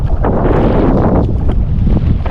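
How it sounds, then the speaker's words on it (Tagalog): Strong wind while fishing buffets the microphone with a loud, continuous rumbling roar that surges and gusts without letup. "Malakas lang kasi yung hangin no."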